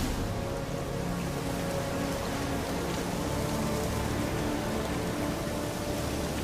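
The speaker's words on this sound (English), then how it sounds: "Looks like rain." Steady rain patters down across a surface in the video game The Witcher III: Wild Hunt, a dense continuous hiss with faint tonal hum beneath, with no voices.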